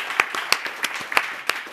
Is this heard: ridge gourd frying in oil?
no